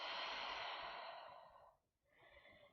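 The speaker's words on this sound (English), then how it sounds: "Deep breath out." A long, soft, airy exhale during a yoga session trails off to near silence, followed by the start of another quiet breath, close and faint.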